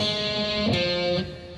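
An overdriven electric guitar rings out with sustained, gritty harmonic tones, a chord change midway, then slowly fading.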